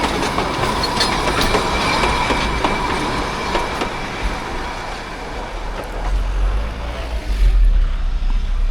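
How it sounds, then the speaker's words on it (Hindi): Darjeeling Himalayan Railway toy train rolling past, a steady loud rumble with rhythmic wheel clatter on the rails and a brief screech of wheels, continuing without a break and with no talk. "ये है दार्जिलिंग की टॉय ट्रेन, जिसको बोलते हैं दार्जिलिंग हिमालयन रेलवे।"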